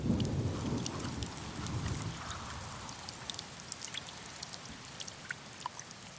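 Steady rain pours and patters across surfaces while low thunder rumbles, heaviest at the start and then fading, with scattered close raindrop splashes throughout.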